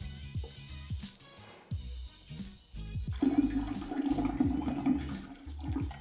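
Fresh espresso pours into a vessel for an espresso martini, a steady liquid stream that starts after a few short clinks and handling sounds and runs fairly close and loud through the rest.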